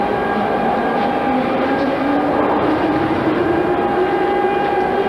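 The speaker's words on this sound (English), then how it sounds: "That's the underground train. It's already here now." An underground metro train in Minsk arriving at a station, a loud steady rumble and whine of the cars rolling close by, with a rising tone and no talk.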